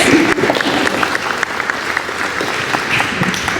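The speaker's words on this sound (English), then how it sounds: "Yes, clap. It's for you guys." A room full of people claps, a dense burst of applause that starts loud and settles into steady clapping.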